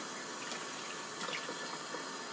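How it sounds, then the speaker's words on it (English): Milk pours into a bowl of oats, a steady faint liquid stream with soft splashing throughout, heard alone. "Half the milk goes in, all the milk goes in."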